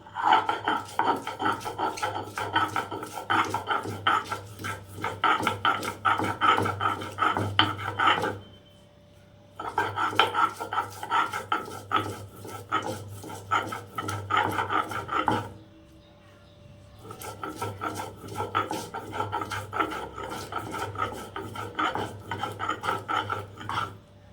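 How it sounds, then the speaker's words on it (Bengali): Ginger ground into paste on a grinding stone, fast rhythmic rasping strokes in three long bursts separated by short pauses, close and loud. "আদাও বেটে নিই"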